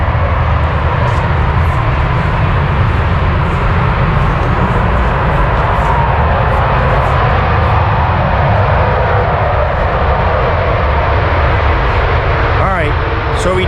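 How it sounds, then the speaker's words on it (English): A big jet aircraft roars past over an active airport, its broad engine rumble loud and steady throughout, swelling slightly as it goes by with no one speaking. "So who knows what just went by? Big jet."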